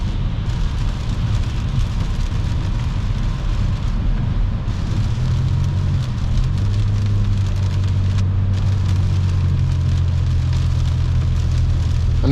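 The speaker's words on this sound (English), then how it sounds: "Another semi-truck." A gasoline tanker semi-truck rumbles past on the road, a loud continuous low roar with heavy road and wind noise throughout, heard from inside a car.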